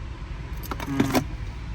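Car keys jangling briefly close by, a short metallic rattle of about half a second over a steady low background rumble.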